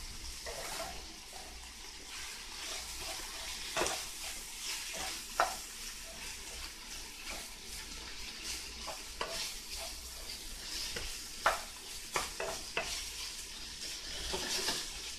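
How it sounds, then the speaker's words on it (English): Ground beef sizzles steadily in a pan, with repeated sharp scrapes and clacks of a utensil stirring it. The cooking is heard up close without talk. "We're gonna cook the ground beef now as well."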